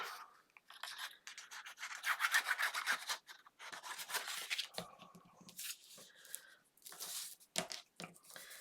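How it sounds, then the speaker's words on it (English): Folded paper being burnished with glue for a handmade card album, producing close, quiet rubbing and rasping strokes in uneven bursts, with occasional faint crinkles and soft taps, with no talk. "Same thing, I'm folding it over and burnishing, and then coming in with my glue."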